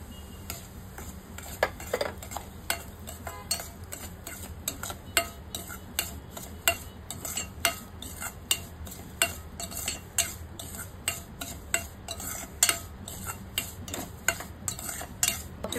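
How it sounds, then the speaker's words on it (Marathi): Semolina dry-roasting in a pan after frying cashews and raisins for pineapple sheera, stirred with a spoon that scrapes and taps the metal in a steady, regular rhythm over a faint sizzle, close and alone. "रवा आपण भाजून घेऊया।"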